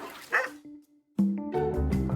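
Feral puppies cry out with a high, wavering whimper, then break into louder overlapping yelps and barks close by.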